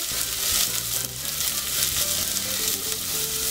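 Chopped garlic and onions frying for mushroom and vegetable fried rice, a strong, dense sizzle filling the whole stretch with faint music beneath and a brief dip partway through.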